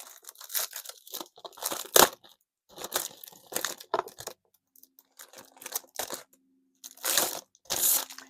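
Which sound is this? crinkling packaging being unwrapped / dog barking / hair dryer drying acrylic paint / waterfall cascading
crinkling packaging being unwrapped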